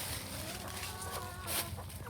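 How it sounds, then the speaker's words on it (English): A chicken clucks near a coop in a few quick, close murmuring calls over a constant noisy background, with a brighter squawk near the end. "Chicken scared him off."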